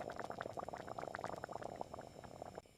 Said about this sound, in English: Fresh water in the pot, bones back in, and bring it to a hard, rolling boil.